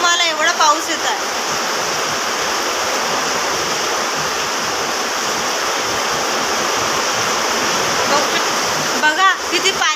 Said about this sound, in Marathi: एवढा पाऊस येत आहे.